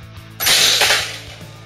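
Homemade coil gun, a Gauss rifle, firing a nail into an old, already damaged PSP: one sharp, loud crack with a brief crash and rattle that fades over about a second against a low steady hum.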